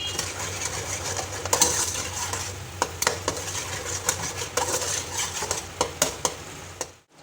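Scrambled eggs, broken into small bits and seasoned with red chili, stirred briskly in a hot pan: a steady low sizzle under repeated quick scrapes and clicks of a spoon against the metal, close up.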